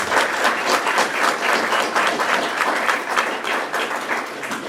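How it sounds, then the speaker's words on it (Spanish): Steady applause from a conference audience at a military and police criminal code talk, dense and sustained clapping heard alone for several seconds. "Recibimos con un fuerte aplauso"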